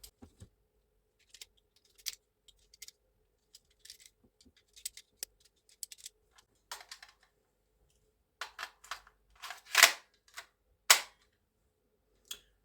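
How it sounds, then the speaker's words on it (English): Plastic toy bullets are clicked one by one into the magazine of a cheap toy Deagle pistol, sparse sharp snaps and clicks in a quiet room, a few louder pops near the end. "I'll load the bullets into the mag first."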